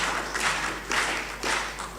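A conference audience claps in several short, distant waves, soft and roomy, each burst lasting a fraction of a second before fading, with no talk over it.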